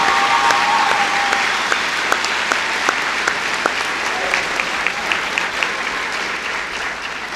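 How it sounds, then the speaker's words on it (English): A graduation ceremony audience applauds the academy staff: loud, sustained clapping from a large crowd, with a thick continuous wash and a few sharper individual claps standing out throughout. "give a round of applause to all of the staff of the Academy and all the folks in the audience"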